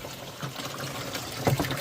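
Water pours and trickles steadily into an Easy Pod pond filter for a koi pond, a continuous close splashing wash with a slightly louder gurgle near the end.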